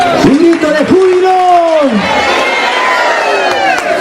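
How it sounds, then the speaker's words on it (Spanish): At a Christian concert in Huancayo, a large crowd raises a loud, sustained shout of jubilation, with voices swelling together under a leader's call. "¡Un grito de júbilo!"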